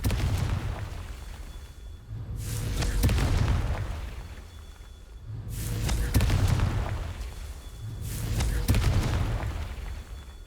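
Three heavy booming blasts from the Confringo fire spell in the video game Hogwarts Legacy, each a loud low thud with a crackling burst, spaced about three seconds apart over a rumbling background.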